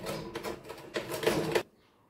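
A sewing machine stitches along the bottom hem of a girl's half pant in quick, rattling bursts of needle strokes, then stops abruptly into near silence.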